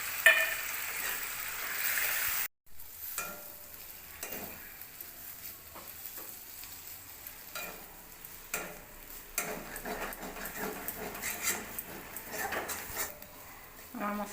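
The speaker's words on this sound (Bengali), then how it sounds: "এখন আলুর সাথে মশলাটা ভালো করে ভেজে নেব।" Spice paste of ground green chili, cumin and coriander frying with potatoes in a pan, a soft steady sizzle broken by scraping stirs and clinks of a utensil against the pan.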